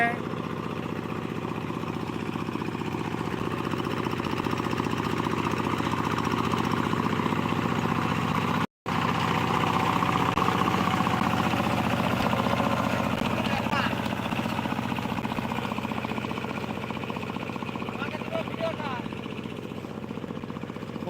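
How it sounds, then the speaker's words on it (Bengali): A power tiller engine drones steadily as it ploughs a knee-deep waterlogged field, a continuous nearby chugging with a brief dropout midway, while a person talks over it. "আসছে পাওয়ার টিলার সামনে এগিয়ে আসছে"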